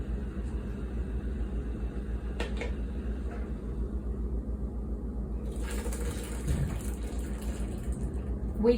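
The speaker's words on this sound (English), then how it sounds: "now we need to strain the water" Water from cooking tapioca boba pearls is strained in a kitchen: a low background hum, then a hissing, splashing pour that begins partway through and runs steadily to the end.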